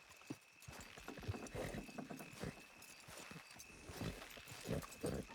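Horse hooves clip-clop steadily in Red Dead Redemption 2 as the horses strain to pull a load. The thudding steps come close and rhythmic over a continuous outdoor ambience.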